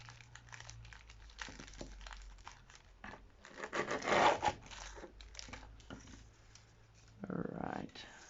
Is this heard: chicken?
no